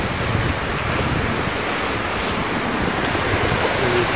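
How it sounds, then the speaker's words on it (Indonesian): Strong wind gusts in Asan, Korea, a loud, continuous roaring rush that buffets the microphone with steady rumbling throughout. "Sekarang ada angin kencang"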